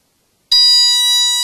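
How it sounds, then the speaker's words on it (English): SK450 quadcopter electronics sound a confirmation beep during setup, a loud, steady, pure electronic tone that starts abruptly after half a second of silence and holds to the end. "you should get a confirmation beep after a few seconds"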